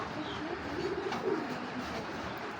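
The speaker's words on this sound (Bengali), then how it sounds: "দর্শক এখন দেখতে পাচ্ছেন এক জোড়া লাল খাকি জোড়া, একদম পাকা চোখের একটা কবুতর।" A pair of red khaki pigeons coos softly and close by, low murmuring calls rising a few times over a quiet, noisy background.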